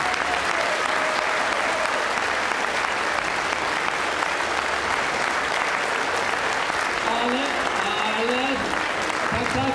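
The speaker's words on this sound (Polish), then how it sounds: "Ogromne brawa!" Continuous loud applause from a crowd at a Polish political rally in Płock, a dense steady roar of clapping lasting throughout, with faint voices and a few whistles toward the end.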